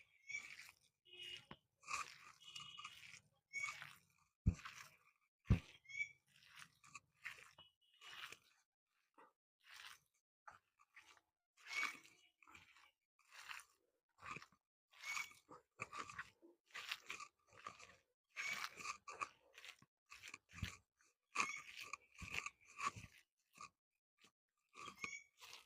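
Jackfruit kofta mixture with cumin powder, garam masala and coriander powder being kneaded by hand, producing close, repeated squishy crunching bursts in an uneven rhythm with short pauses between.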